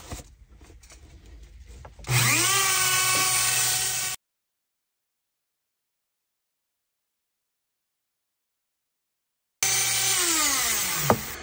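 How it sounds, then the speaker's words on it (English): A Dremel rotary tool grinds a crystal skull walking stick in two loud, steady, high-pitched whining runs separated by a long silent pause, with no talking. "So I'm going to start the grinder and then, or the Dremel"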